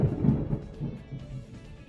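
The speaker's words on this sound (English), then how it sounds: "Yeah, it was thunder." Loud thunder rumbles close by, a heavy low boom with rolling aftershocks that fade over a couple of seconds, with no voices.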